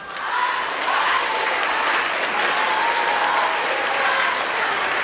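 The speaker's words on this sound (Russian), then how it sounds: "И мы ждем бурных аплодисментов, друзья!" Steady, dense audience applause fills the hall at a concert celebrating a folk dance ensemble's anniversary, with loud sustained clapping throughout and a faint crowd murmur beneath.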